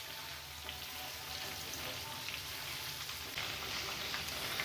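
Chicken pieces frying in a pan for butter garlic chicken, giving a steady, dense crackling sizzle with scattered small pops, close and even throughout.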